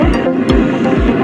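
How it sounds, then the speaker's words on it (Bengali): A cooking stove runs close by while mutton is cooked, giving a loud, steady roar with low throbbing pulses about twice a second. "তাই তোমরা একটু স্টোভের আওয়াজ শুনতে পাচ্ছ।"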